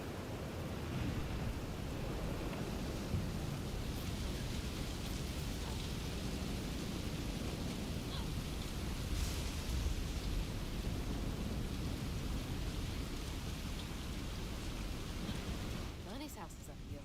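A thunderstorm in the video game South of Midnight: steady heavy rain hisses without a break, with low rumbling thunder beneath it.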